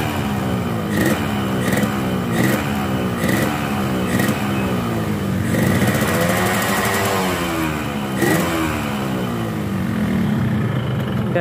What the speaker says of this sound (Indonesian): Dan kedengeran suara mesinnya juga sedikit lebih berisik ya.